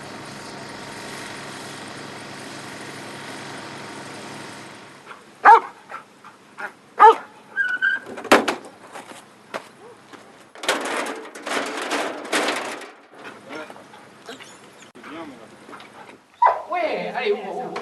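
Search and rescue dog barking during a training search as its handler follows it, sharp separate barks at moderate distance, mixed with rustling and movement noises, with a steady hum at the start.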